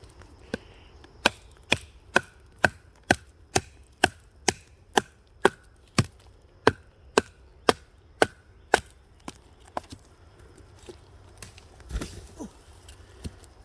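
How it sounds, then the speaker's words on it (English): Condor Moonshiner full-tang knife batoning wood: about twenty sharp, evenly spaced wooden knocks in a steady rhythm, close and crisp, then a scattered rustle and a few softer taps near the end. "So let's see about batoning some of this wood."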